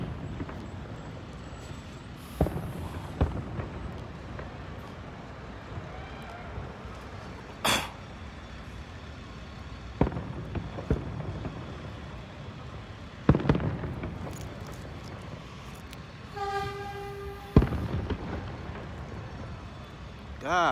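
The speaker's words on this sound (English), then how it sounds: "this is the last of the firework" New Year 2020 fireworks finale in San Francisco bursts at scattered intervals in the distance, sharp pops and booms over a steady outdoor crowd murmur and background noise.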